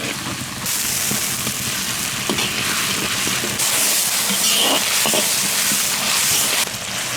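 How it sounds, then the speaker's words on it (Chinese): Chopped scallion, ginger, garlic and millet chili are stir-fried in hot oil in a wok, giving a loud continuous sizzle and crackling hiss that swells at times as the aromatics are stirred. "油锅下入葱姜蒜末、小米辣，炒香以后来1勺辣子酱"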